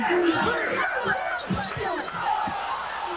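Basketball arena crowd at a 2001 college game between Iowa and Memphis, a loud sustained roar of shouting fans with rising yells, continuous throughout.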